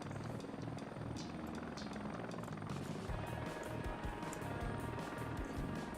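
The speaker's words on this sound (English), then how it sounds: "This guy of a helicopter will just fly over with the door gunners." A video game helicopter with door gunners passes overhead, its rotor making a continuous loud chopping drone throughout.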